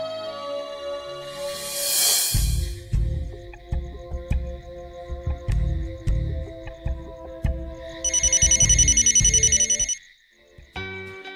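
A telephone rings in repeated electronic bursts, loud and close, alongside rhythmic music and a bright whooshing chime, with no voices.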